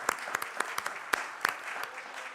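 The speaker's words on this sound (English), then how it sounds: "Give him a big round of applause." Light applause from a church congregation welcoming a guest minister at a Unity service, a handful of distinct claps in loose, uneven rhythm that thin out and fade, with no speech.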